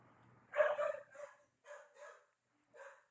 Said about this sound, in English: You hear my dogs in the background whining.